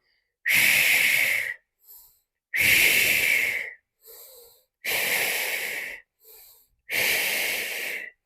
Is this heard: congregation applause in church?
no